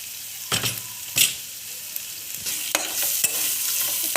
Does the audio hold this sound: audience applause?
no